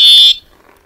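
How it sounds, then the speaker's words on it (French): A loud, steady electronic horn on a Lankeleisi X3000plus-up electric mountain bike sounds once for about a third of a second, then cuts off, leaving faint background noise. "Là, je viens de klaxonner."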